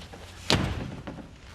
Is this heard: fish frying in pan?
no